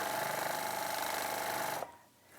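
A quilting sewing machine stitching in constant mode runs with a steady, fast mechanical whir and rapid needle rhythm, close and loud, then stops abruptly near the end, leaving a quiet room.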